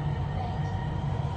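A Dubai Metro train running, with a steady low rumble and hum inside the carriage, continuous and fairly loud for the whole stretch.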